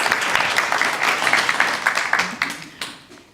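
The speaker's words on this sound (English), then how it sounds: "big round of applause" A crowd applauds steadily at a guide dog graduation ceremony, many hands clapping in a dense patter that gradually thins out toward the end.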